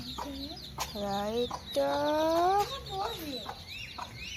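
Baby chicks cheep and cluck in high, rising chirps, several close calls in a row, with a person speaking briefly in the background.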